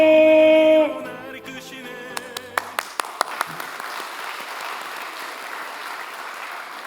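A church congregation applauds newly baptized and confirmed young members. The clapping starts just after a sustained music chord fades, with a few sharp individual claps that build into steady, moderate applause.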